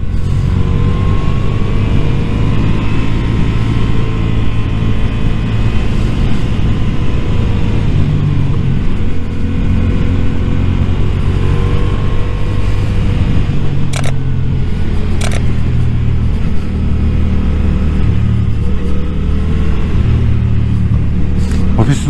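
A motorcycle ridden through city traffic, its engine a loud, steady rumble that drones on without a break, with rushing wind noise throughout and a couple of sharp ticks near the end.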